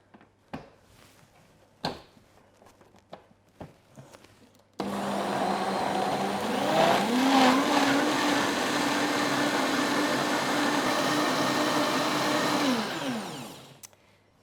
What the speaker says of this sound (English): We're just going to chuck that on there and blend it up.